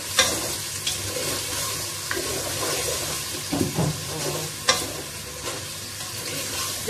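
Pieces of arbi (taro) with turmeric fry in hot oil, giving a steady, close sizzle throughout, with occasional soft stirring clicks and pops and no talk.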